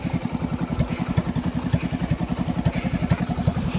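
An old motorcycle engine chugs steadily up close while climbing a mountain road, its low, rapid beats thumping in an even, slightly rough rhythm throughout.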